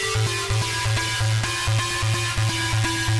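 A bright synth lead melody with a compression plugin over a steady pulsing beat, dense and even in loudness, sounding punchy and forward, with no speech.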